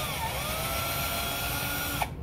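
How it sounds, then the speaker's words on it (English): A power drill bores into a plastic Nerf Stryfe blaster part with a steady, close whine that stops abruptly near the end. "It's neat that I can see how deep the drill has gone."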